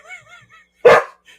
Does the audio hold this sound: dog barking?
yes